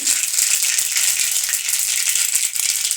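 A spoonful of mustard seeds spluttering in hot oil in a pan while making drumstick bassaru, a loud, continuous crackling rattle close by with no talk.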